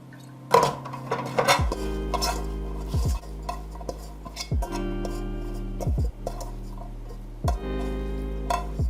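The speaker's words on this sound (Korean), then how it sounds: "간장하고 참기름만 넣고 무칠 거예요" Vegetables for vegetarian temple-style gimbap being tossed with soy sauce and sesame oil, producing close, repeated clattering and scraping strokes in a steady rhythm with no talking.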